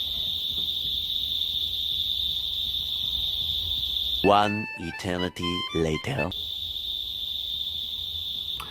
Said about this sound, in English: The crickets are cricketing.